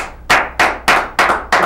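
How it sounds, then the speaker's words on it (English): A small studio audience claps in five quick, loud bursts, each swelling and then trailing off, with short pauses between them. "They're going to applaud right now."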